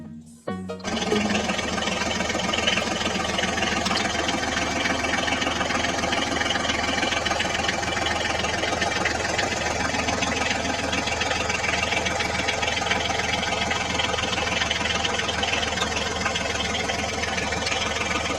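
A crane truck's motor hauls a Sonalika tractor out of a pit, starting with a brief clatter and then settling into a constant, buzzing whir that stays loud and close for the whole stretch.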